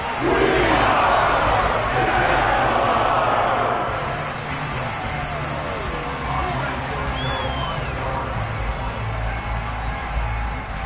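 Stadium crowd noise in a Madden football video game featuring Pittsburgh, a steady, loud roar of massed voices that swells at the start and then settles into a constant, slightly softer hum.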